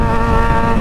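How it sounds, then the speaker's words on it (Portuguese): A Yamaha XJ6 motorcycle engine revs steadily through its exhaust at close range, a loud continuous droning note with a strong low rumble and bright harmonic whine, no voices over it. "Não tá legal, né, o barulho da moto, né, mano?"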